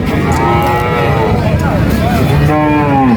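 Loud, close cow moos at a dairy cattle market, long drawn-out lowing calls one after another, with faint background chatter.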